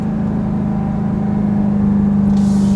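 Inside a 2023 Dodge Durango Hellcat while driving, the supercharger gives a steady tonal whine over a loud, even engine drone and road rumble, constant for the few seconds with no talking.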